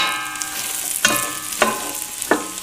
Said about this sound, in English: Onions and celery. And now you mix that up for about 2 more minutes.